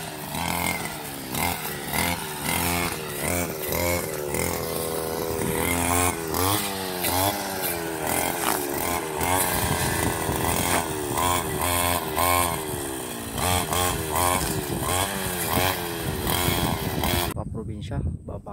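A handheld grass cutter with a small two-stroke engine whines steadily as it cuts grass in a rice field, loud and close throughout. Its revving pitch wavers constantly as the cut progresses.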